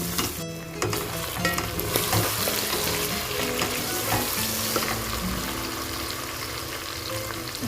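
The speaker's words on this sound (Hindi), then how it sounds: "चिकन डालकर हम इसको 2 से 4 मिनट तेज़ आंच पे फ्राई करेंगे।" Chicken pieces fry over high heat in a pan with garlic and ginger, giving a loud, continuous sizzle with stirring scrapes throughout.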